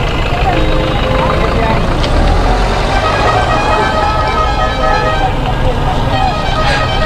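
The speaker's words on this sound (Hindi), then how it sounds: "चलो पब्लिक ज़्यादा हॉर्न मार रही है" Busy roadway traffic produces loud, constant engine and road noise, with vehicle horns honking repeatedly and overlapping in sustained toots close by.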